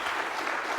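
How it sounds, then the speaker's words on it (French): An audience at a public talk at the Musée du quai Branly applauds in a dense, steady wash of clapping, caught only for a brief moment. "On peut les applaudir."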